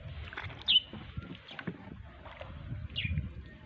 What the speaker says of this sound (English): Actually, I'm paddling to my home.